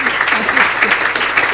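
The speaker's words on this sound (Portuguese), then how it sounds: "uma salva de palmas para a Clara" An audience applauding at an architecture school anniversary event, a brief burst of steady clapping with a voice speaking over it.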